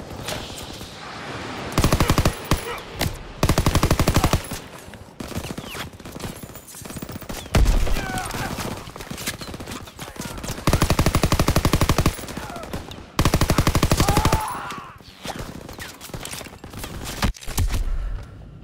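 Machine-gun fire in Call of Duty: WWII during a D-Day beach assault, loud sustained bursts and rapid rattling volleys repeating throughout with short pauses between, with explosions and battle chaos in the background.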